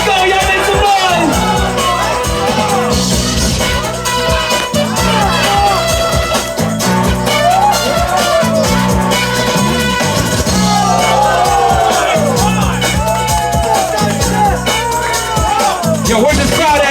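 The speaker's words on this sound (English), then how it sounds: "Y'all make some noise." A crowd at an outdoor dance battle jam yells, whoops and cheers loudly and continuously over booming rhythmic music, with voices shouting through the mix.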